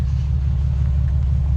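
Loud exhaust rumble from a supercharged car fitted with Apexi N1 Extreme mufflers, a steady deep drone holding close and constant throughout with no voices.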